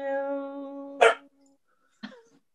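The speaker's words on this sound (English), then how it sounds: "I'm glad I brought the dogs into the room." Two sharp barks from dogs brought indoors into a room, the first right as a sustained sung note fades and the second about a second later, then quiet.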